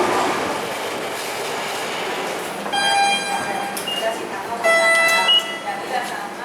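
A passenger train runs along a rail line, rumbling steadily close by, then high-pitched wheel squeals and screeching ring out twice over the clatter of the cars.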